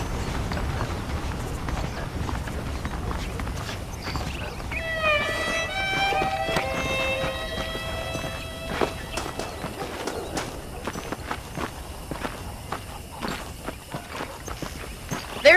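Horse hooves clip-clop at a steady walking pace on a ranch in the Red Dead Redemption video game, close and clear, with birds chirping briefly in the background and occasional voices.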